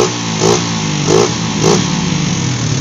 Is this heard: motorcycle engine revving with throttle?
yes